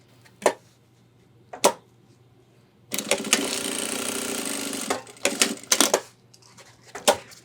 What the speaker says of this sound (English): I'm gonna go ahead and stitch this top part closed on this other one